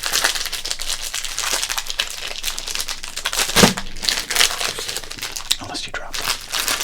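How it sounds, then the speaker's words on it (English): Plastic rack-pack wrappers from 1990 Donruss baseball cards crinkle and crackle steadily up close, a dense continuous rustle with a sharper crunch partway through, and soft speech underneath. "Let's crinkle"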